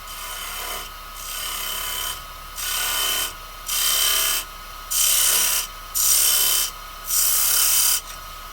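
A multi-point wood turning tool cuts a design into a spinning sycamore bowl on a lathe, producing a series of raspy scraping bursts, each about a second long, separated by short pauses and growing slightly louder across the run.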